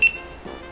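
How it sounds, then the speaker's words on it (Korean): A GoPro Hero9 Black gives a short, faint double beep as it pairs with a phone, a thin high tone at the very start over quiet room noise. "연결되면 이렇게 고프로 삐빅 소리 들리시죠?"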